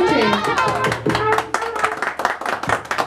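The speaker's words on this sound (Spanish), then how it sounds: "Fuerte el aplauso, que se escuche." Applause breaks out at a birthday mariachi performance, a burst of many hands clapping close by, with voices mixed in and the clapping thinning toward the end.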